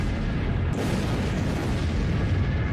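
Meteor fireball exploding in the atmosphere above Siberia's Tunguska forest, a continuous deep booming roar with heavy low rumble sustained throughout.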